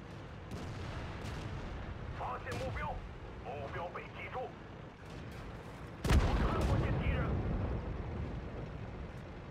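Artillery in the tank battle game World of Tanks bombards enemy tanks, with a close, heavy boom and a rumbling tail, preceded by softer distant thuds. Someone talks over the gunfire.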